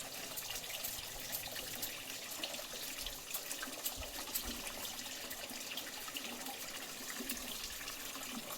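Water runs steadily from a tap while a pet is bathed, a constant hissing splash with faint thumps and knocks underneath, fairly close.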